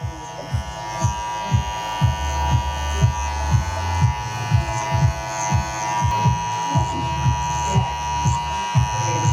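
Electric hair clippers fitted with a number 3 guard trimming around the edges of a haircut, a steady close buzzing hum with regular short pulses as the blade passes repeatedly through the hair.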